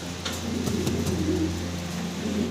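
A pair of fancy pigeons cooing up close, with low repeated coos over a steady background hum and a few faint clicks.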